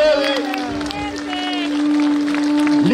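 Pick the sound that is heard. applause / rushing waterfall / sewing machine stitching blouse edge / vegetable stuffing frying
applause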